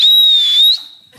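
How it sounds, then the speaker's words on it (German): A person whistles without using fingers, producing a single loud, piercing high tone lasting under a second that wavers slightly before cutting off. "ja, wir pfeifen. Ohne Finger."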